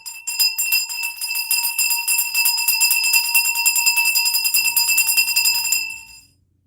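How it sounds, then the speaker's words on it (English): A bell is rung rapidly and continuously for about six seconds, its bright, shimmering metallic tone loud and close before cutting off into silence. "Let's ring the bell for her."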